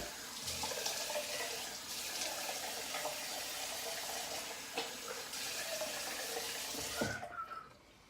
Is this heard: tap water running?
yes